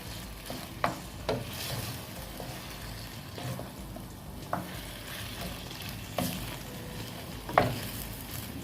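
Chicken sautés and sizzles in a small cooking pot under a steady, soft frying hiss, with a handful of sharp utensil scrapes and clacks from stirring at irregular intervals.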